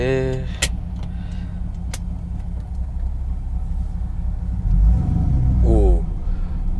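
A V8-swapped Daihatsu Xenia pulls away in drive with a low, steady engine rumble that swells briefly as the throttle is blipped, heard from inside the cabin with a voice talking over it.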